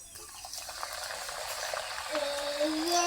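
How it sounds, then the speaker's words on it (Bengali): Nimki dough fries in hot oil with a soft, steady bubbling hiss. Faint clatter from the pan rises briefly near the end. "আর ভেজে নেব"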